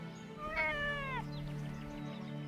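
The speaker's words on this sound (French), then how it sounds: "Moi, j'ai trouvé un chaton abandonné." Abandoned kitten giving a single clear drawn-out meow, close and fairly soft, over a low steady background hum in a cartoon setting.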